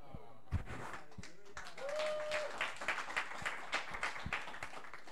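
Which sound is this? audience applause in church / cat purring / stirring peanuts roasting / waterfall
audience applause in church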